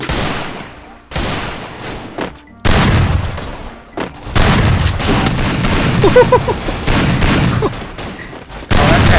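Gunfire rings out in the Free Fire mobile game as loud bursts of rapid shots with short pauses between volleys, close and dominant through the stretch, with a voice faintly mixed in.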